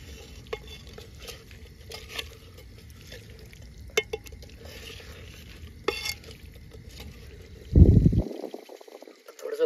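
Mutton cooks with homemade red masala in a pot over an outdoor wood-fired stove. Soft scraping and stirring clicks come first, then a sudden loud sizzle bursts up near the end, with people talking nearby.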